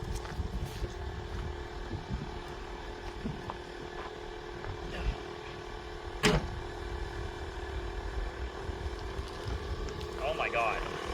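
Electric car converted with a 5-speed manual gearbox setting off slowly around the block, a steady low drive hum and road rumble running throughout with a sharp knock near the middle, while people talk over it.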